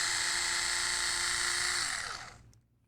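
A power drill whirs steadily at high speed driving longer screws into an RC axle housing on a Redcat Gen8, then winds down and stops, close and alone without talk.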